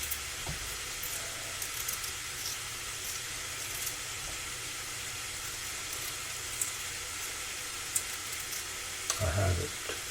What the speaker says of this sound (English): I'm cooking the ground beef.